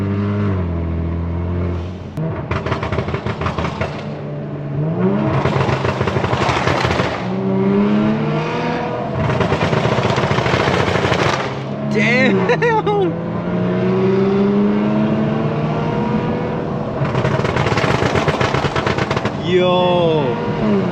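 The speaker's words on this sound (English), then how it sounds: "the turbos, you can hear them spooling" A straight-piped Kia Stinger roars through a tunnel, its loud, echoing exhaust rising and falling in repeated hard revs with crackling bursts and a whistling turbo spool between pulls.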